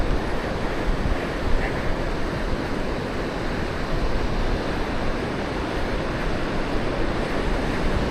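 Strong wind blowing off the open sea across the beach at Praia do Santinho, with ocean surf crashing in a continuous loud roar and gusty microphone buffeting, no voices.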